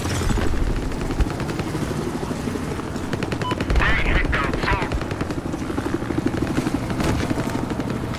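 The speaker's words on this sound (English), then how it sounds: "Attack chopper spotted!" In the game Battlefield Hardline, a police attack helicopter's loud, continuous rotor chop fills the scene while bursts of gunfire crackle and a voice shouts briefly midway.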